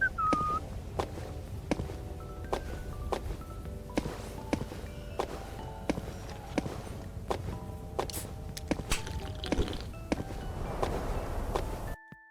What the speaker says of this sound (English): They've also added the new jumping sound, but this sound seems to happen as well as the original jumping sound